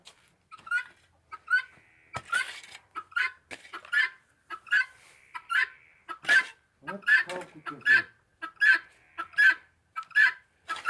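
Ducks in a garden give repeated short quacks in a loose rhythm, fairly close, with a few louder calls in the middle; a person talks briefly near the start.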